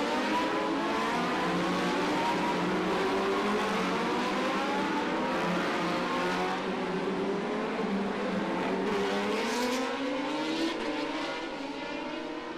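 Racing motorcycles on a warm-up lap at the 2023 Macau Motorcycle Grand Prix street circuit, tearing up San Francisco Hill: a loud, continuous engine roar with overlapping rising and falling revs from several bikes.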